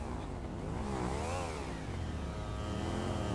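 A motorcycle engine revs in GTA 5, the pitch rising and then falling in a whining sweep over a steady engine drone, loud and continuous with no talking.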